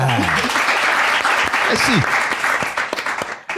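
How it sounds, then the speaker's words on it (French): Audience applause fills a French-speaking gathering, steady and dense clapping running under scattered talk and a spoken thank-you before it thins out near the end. "Applaudissez un peu."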